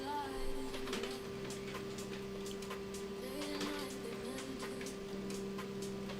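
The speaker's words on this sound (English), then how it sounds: "the printer is very loud" An office printer runs with a steady mechanical hum and faint repeated ticking and whirring pulses, fairly quiet and continuous with no talk over it.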